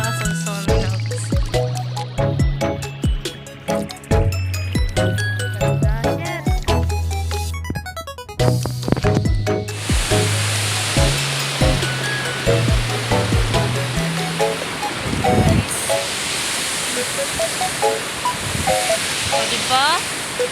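Water rushes steadily and loudly at Labugaong dam in Sonson Hills as a continuous broadband roar, preceded by a stretch of music before the water noise takes over.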